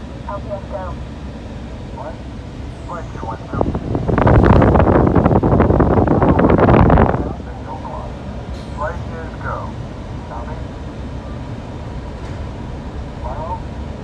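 A rushing, rumbling roar swells for about three seconds on the Mission: SPACE ride at EPCOT, Walt Disney World, simulating a rocket launch over a constant low hum and faint beeps, then cuts off.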